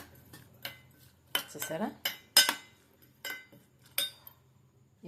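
A spoon scrapes and clinks against a bowl while food is mixed by hand in a home kitchen, giving a series of short, close metallic knocks and rattles in irregular bursts, with a voice briefly speaking.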